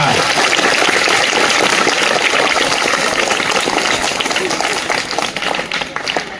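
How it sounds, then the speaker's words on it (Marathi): An audience at a Sanskrit Day school event applauds a teacher with loud, dense, sustained clapping that thins out slightly toward the end. "एकदा जोरदार टाळ्या पाटील मॅडम साठी देखील वाजवा"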